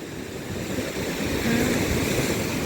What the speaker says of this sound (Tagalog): Kumahampas yung alon.